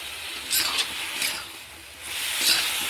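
Shrimp dropped into a hot pan sizzle in soft hissing bursts that rise and fall several times, moderately close with no talking.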